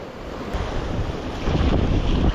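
Strong side-on wind blowing across the sea during saltwater fishing, a steady loud rumble of wind buffeting the microphone over washing surf, building slightly toward the end, with no voices.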